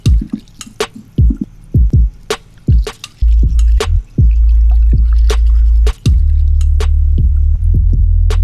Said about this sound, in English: there's also this like water sloshing sound that kind of comes in and out